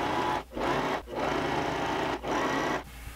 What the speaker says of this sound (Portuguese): Então eu vou dobrar aqui e vou costurar apenas aqui.